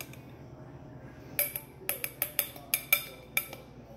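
Dishes and a spoon clink sharply in a kitchen as oats and cinnamon are moved into a bowl for oatmeal raisin cookies, about eight bright close taps in an irregular run after a quiet start.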